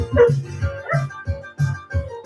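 A dog barks repeatedly at close range in a series of short, evenly spaced woofs, loud and clear with no talking over it.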